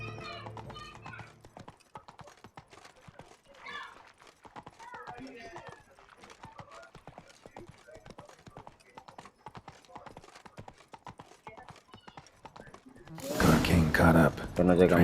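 Horse hooves from The Witcher 3 video game clop in a steady, fast rhythm at moderate volume while people talk over them, ending in a sudden loud burst of game sound.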